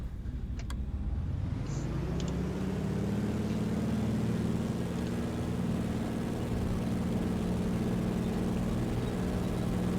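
In Microsoft Flight Simulator 2020, a bush plane's engine idles with a steady low droning hum after a few clicks, the tone rising briefly as it settles, then holding evenly throughout.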